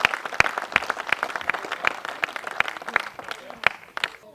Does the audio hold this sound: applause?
yes